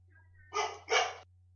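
A dog gives two quick, loud barks close by, one right after the other, over a steady low hum.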